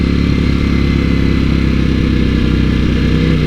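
Ducati Italian superbike engine running close and loud, a steady throbbing, lumpy idle with a faint mechanical clatter, holding an even rhythm without revving up, no voices.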